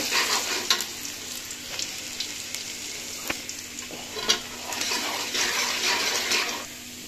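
Chopped ginger fries in hot oil in a wide pan, a dense continuous sizzle with occasional spoon scrapes and knocks as it is stirred, close and fairly loud, no talking.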